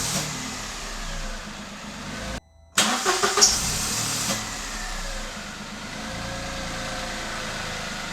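A Peugeot 107 car engine cranks briefly after a moment of silence and then catches and runs, settling into a steady close idle.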